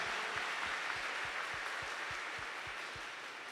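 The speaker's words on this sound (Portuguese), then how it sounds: "Dê uma salva de palmas para essas pessoas." Church congregation at a Pentecost Mass clapping, a broad crowd applause with a clear steady rhythmic beat of unison claps running through it, fairly constant in level and fading slightly near the end.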